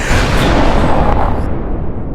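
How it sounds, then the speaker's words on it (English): A loud, sustained rumbling explosion with dense crackling debris, fading slightly after about a second and a half, no voices. "Special sound effects. Explosions."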